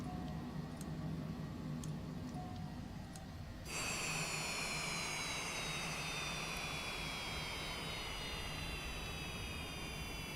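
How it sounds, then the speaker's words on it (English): In Microsoft Flight Simulator 2024, jet engines and aircraft noise fill the cabin with a steady loud roar, with high whines that slowly fall in pitch as the engines spin down. "Let's go ahead and shut down the engines."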